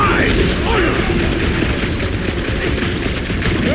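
Gunfire in the Guardians of the Galaxy video game during a firefight around a ship's reactor: loud, dense and continuous blasts and bursts filling the whole stretch, with a voice briefly over the shooting.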